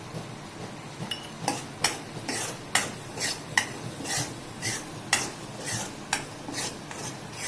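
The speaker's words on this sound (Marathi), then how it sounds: "कांदा छान कलसून झालाय त्यात टाकूया तिखट पुन्हा जरा कलसवून घेऊया" A spatula scrapes and knocks against a pan as fried onion and chili powder are stirred together, with a dozen or so sharp strokes over a faint sizzle, close and without speech.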